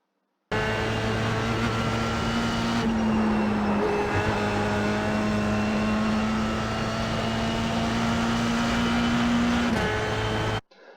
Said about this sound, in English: So we'll play this uphill corner one more time in real speed